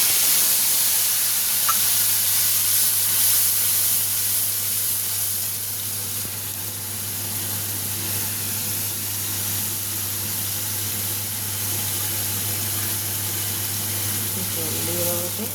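A paste of ground mustard and green chili hits hot oil in a pan, giving a steady, loud sizzle and hiss that holds throughout with a low hum underneath.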